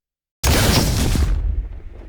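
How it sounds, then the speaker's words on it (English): Explosion at a crime scene in the anime Fire Force: a sudden, loud, close blast bursts out after a moment of silence, then rolls into a heavy rumbling roar that slowly thins out. "Suddenly, an explosion destroys the crime scene"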